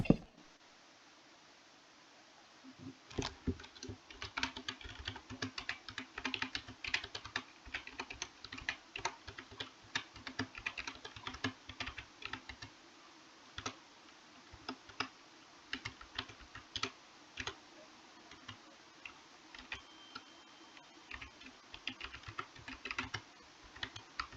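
Keys clatter on a computer keyboard in quick irregular bursts of clicks and taps during a Minecraft session, close and fairly quiet, with no talking.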